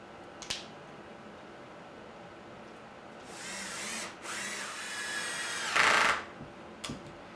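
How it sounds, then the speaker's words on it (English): A power drill drives screws into a cedar potting bench, giving two close, moderately loud whirring bursts separated by brief pauses, with sharp clicks and a short final burst, and no speech. "I'm going to get these 2 end screws in first."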